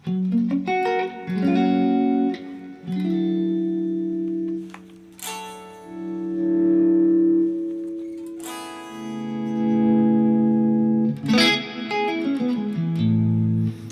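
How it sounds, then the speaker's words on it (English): A sustained electric guitar, a modded Gibson SG Classic, rings out with long, washy plate reverb, notes swelling and blooming into a chord-like haze before fading, then new phrases begin. "I like a really expensive sounding plate reverb."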